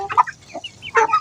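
Free-range village chickens cluck in short close bursts while being fed tofu-dregs feed, two quick clusters of clucks separated by a brief soft call.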